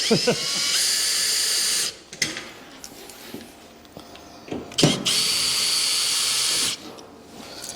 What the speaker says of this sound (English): Certainly a bit easier if you got a drill.